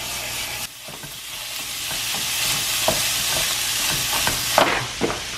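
Hamburger Helper meat sizzles steadily in a frying pan, a continuous bright hiss with occasional sharper pops and stirring scrapes, fairly close and with no talking.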